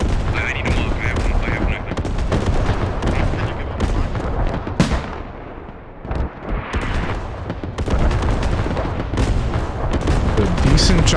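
Dense mortar and artillery fire in the tactical shooter Squad: a continuous rumble of heavy blasts and gunshots with a brief lull midway, loud throughout, with a voice talking underneath.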